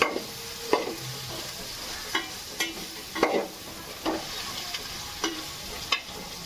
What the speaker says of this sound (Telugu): అల్లం వెల్లుల్లిపాయ కొంచెం పచ్చివాసన పోయే వరకు వేగనివ్వాలి